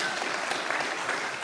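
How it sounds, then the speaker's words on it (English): Steady applause from an audience at a naval leadership talk, a dense wash of clapping filling the whole moment without pause. "That was sure to get an applause."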